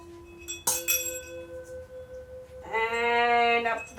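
Large bells used as musical instruments: a sharp struck hit rings on with a sustained tone, and later a buzzy, rich-toned ringing swells for about a second, close and clear with no talking.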